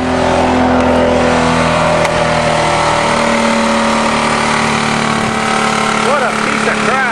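A 20-ton bulldozer engine revs loud and continuous while crushing a Thunderbird car, a heavy droning roar with a rising pitch near the end, close, with people talking over it.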